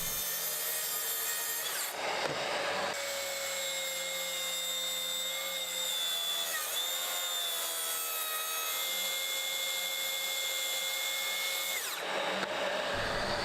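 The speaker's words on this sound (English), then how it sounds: "And then I finished the cuts with the jigsaw." Power jigsaw cutting through birch plywood, a steady loud buzzing rasp that runs almost continuously, with two short breaks where the blade pauses before the cut resumes.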